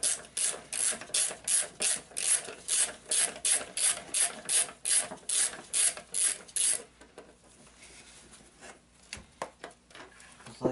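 A ratchet wrench clicks in quick, even bursts while a 10mm bolt is loosened on the automatic transmission of a 2009 Hyundai Accent, then slows to a few scattered clicks and clinks.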